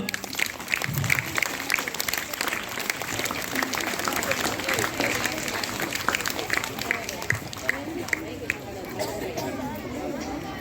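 An audience applauds to welcome children onto a stage at a cultural event, a sustained patter of many hands clapping over murmuring crowd chatter and voices, fairly loud and continuous throughout.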